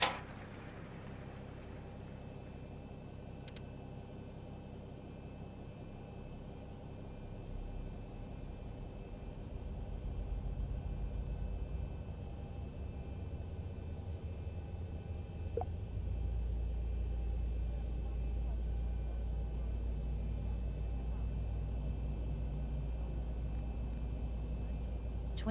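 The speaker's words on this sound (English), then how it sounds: "Start number 2 engine." Number 2 engine of a Zibo mod Boeing 737 in a flight simulator spools up, a low whine and rumble that gradually grows louder and deeper over about twenty-five seconds, fairly faint overall with a couple of brief clicks.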